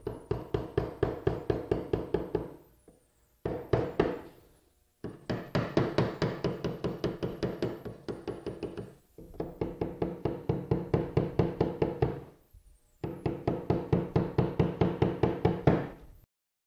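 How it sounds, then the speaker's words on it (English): A sharp chisel is struck repeatedly to waste away the center area of a wooden cabinet part, giving fast rhythmic knocking blows in several long bursts separated by short pauses, close and clear. "Using a nice sharp chisel, I can now waste away the center area."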